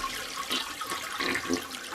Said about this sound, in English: Toilet flush. Unacceptable.